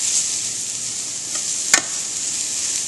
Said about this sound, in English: you're just going to put your vegetables in, stir them around, and you're just doing a light saute, just like stir fry